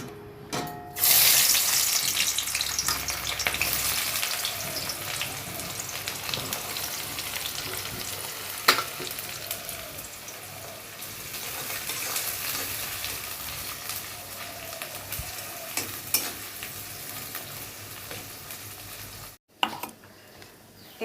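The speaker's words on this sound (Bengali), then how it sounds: "এবার এই পেঁয়াজগুলো যে তেল গরম করে রেখেছি ওতে ভাজবো।" Onions frying in hot oil for a mustard-style Bombay duck fish dish, a steady broadband sizzle lasting throughout with occasional stirring clatter and a brief dropout near the end.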